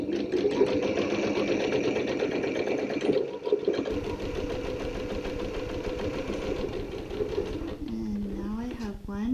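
A sewing machine stitches fabric strips together for an ironing board cover, running in a fast, steady mechanical whir up close, with a brief slowdown partway and someone talking over the end.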